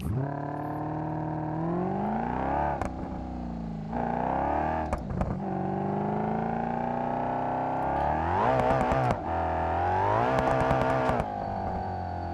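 A Citroen BX engine in BeamNG.Drive revs up and down through long, steady strained pulls with brief lifts between them, loud and close, with no talk over it.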